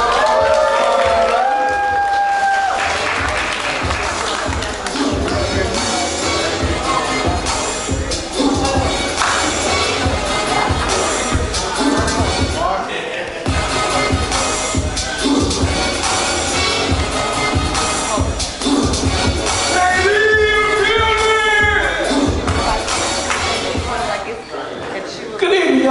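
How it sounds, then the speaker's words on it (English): Audience at a Friday night comedy showcase claps and cheers for a comedian taking the stage, a continuous dense wash of applause and crowd noise with shuffling and occasional shouts throughout. "Give him a round of applause, y'all."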